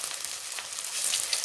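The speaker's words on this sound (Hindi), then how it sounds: "कढ़ाई में तेल गरम करके इसमें छोटे छोटे ड्रॉप मिक्सचर के गिराते जाएंगे हाथ से या चम्मच से" Small drops of pakora batter fry in hot oil in a kadai, giving a steady, dense crackling hiss that swells slightly toward the end, close up with no talking.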